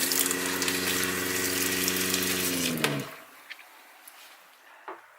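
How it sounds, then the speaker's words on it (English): A camper's water pump runs loudly, pushing antifreeze up through the kitchen sink drain during winterizing, a steady droning hum with gushing flow that cuts off abruptly about two-thirds through, leaving faint drips and clicks. "Gonna repressurize the pump with the second tank or second bottle, second gallon."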